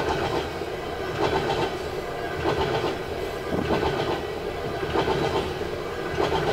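A CN freight train with hopper cars rolls past nearby, a steady loud rumble with rhythmic wheel clatter over the rail joints throughout, no voices.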